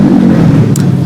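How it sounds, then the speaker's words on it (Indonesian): A loud motorcycle passing by, a close, steady low engine drone throughout the short moment, with no speech. "ada sepeda motor kenceng banget"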